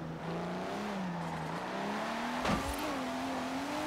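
Nissan Skyline GT-R in the Forza Horizon racing game, its turbocharged engine droning and rising steadily under load, with a brief whoosh from the blow-off valve midway; loud and continuous, no talk.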